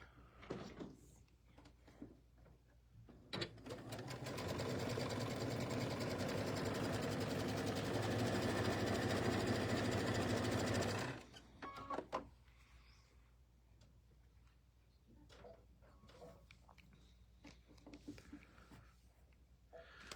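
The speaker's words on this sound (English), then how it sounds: "Okay, so stitch these at 1/4 inch." A sewing machine stitches quilt fabric at a quarter-inch seam, running in one continuous loud whir for about eight seconds before stopping, with faint clicks and handling noises on either side.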